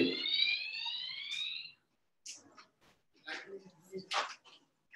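An indoor fire alarm blares a sweeping electronic tone for under two seconds and then cuts off, after which people speak briefly in the quiet that follows.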